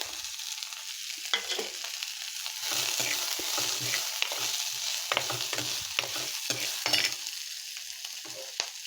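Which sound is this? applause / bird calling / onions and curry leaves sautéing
onions and curry leaves sautéing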